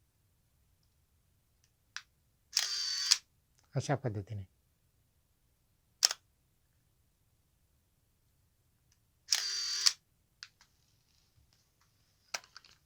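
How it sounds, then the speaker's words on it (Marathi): A camera's thin metal vertical shutter fires as a few sharp, separate mechanical clicks and short whirring bursts, spaced seconds apart in a quiet room. Someone speaks briefly near the end. "हे उभे शटर आहे, मेटलचे पातळ धातूचे उभे शटर आहे."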